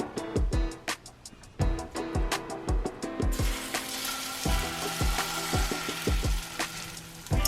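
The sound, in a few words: potato pancakes frying in sunflower oil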